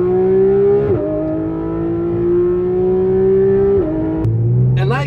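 Porsche 991 GT3 RS driven on a race track, its engine note loud and close throughout, rising steadily in pitch through each gear with two quick drops at shifts before another rise near the end.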